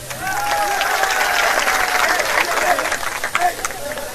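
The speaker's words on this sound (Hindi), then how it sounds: "चलो एक बार फिर जोरदार सारे मंच के लिए ताली बजा दो" A crowd at a political rally in Joura, with Sachin Pilot on the stage, bursts into loud, vigorous clapping, with voices and shouts rising over the applause throughout.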